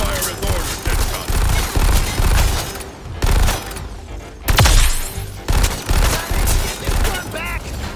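Heavy gunfire in the Suicide Squad: Kill the Justice League video game, with loud rapid volleys and bursts broken by brief pauses and a big impact, while character voices talk over the battle.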